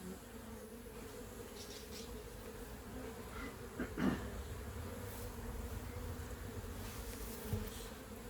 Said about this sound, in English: There's quite a lot of bees flying out of this box, and sort of all flying around me at the moment.